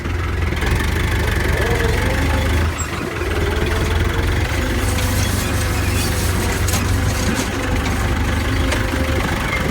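A small New Holland 70-56 tractor engine runs steadily with a low, rumbling idle that stays constant throughout, close by and fairly loud.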